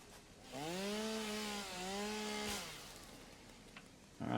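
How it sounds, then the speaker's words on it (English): Chainsaw in the video game Satisfactory cutting through trees, a revving motor whine that rises, holds steadily for about two seconds with a brief dip, then cuts off, leaving quiet game ambience. "you can only get the trees with your chainsaw"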